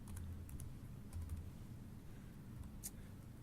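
Keys on a computer keyboard are tapped in a quick, uneven run of light clicks, faint and close, with a quiet steady hum behind them.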